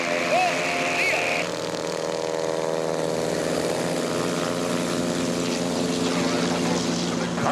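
Aircraft engines and propellers at a STOL drag race, a Carbon Cub against a Cessna 182 with a reversible-pitch prop, droning steadily and loudly throughout with a commentator talking over them.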